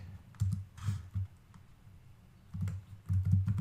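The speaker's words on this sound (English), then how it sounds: "We're going to type in year to date" Typing on a computer keyboard, a few short bursts of soft, close key clicks separated by a quiet pause.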